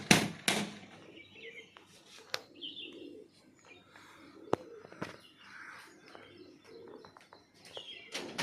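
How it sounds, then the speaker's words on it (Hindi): Pigeons on a rooftop in Pratapgarh give soft coos and chirps among sharp wing claps and flutters as they take off, with sudden loud snaps scattered over quieter ambient noise. "इस कबूतर उड़ चुके हैं पूरे जी।"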